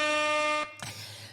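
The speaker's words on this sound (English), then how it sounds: "So let's give me an air horn." Air horn sound effect, a loud sustained buzzy blast lasting about half a second, then cut off and followed by a short noisy burst that tails away.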